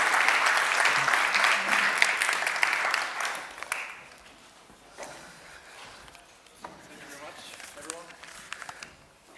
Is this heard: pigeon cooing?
no